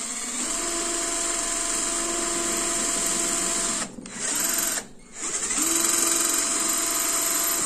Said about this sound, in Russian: Показываю на примере обычного сверла.